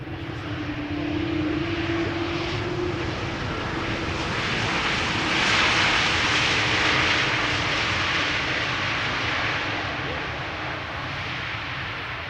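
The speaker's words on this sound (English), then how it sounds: "Here's the Bombardier C-Series 300, Air France flight 1444. Arriving from Paris Charles de Gaulle." An Air France Bombardier C-Series 300 jet arriving at Amsterdam Schiphol Airport makes a steady, broad engine roar. It swells slightly midway through and stays loud for about twelve seconds, with voices faintly under it.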